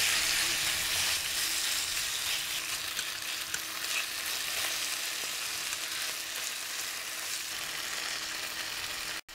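Beef tenderloin frying loudly in a wok with oil and ginger, a steady dense sizzle with stirring that runs the whole time with no talking, then cuts off abruptly at the end.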